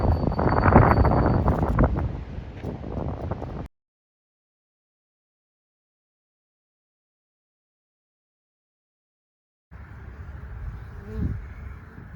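Honeybees returning to the hive from foraging, some carrying pollen, make a steady close buzzing drone with wind rumbling on the microphone. The sound cuts out to silence midway, then a quieter buzzing resumes.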